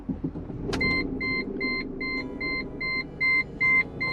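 A 15-year-old Mercedes C280 starts up with a brief jolt, then settles into a low idle rumble. A seatbelt warning chime beeps in a regular pattern over the engine.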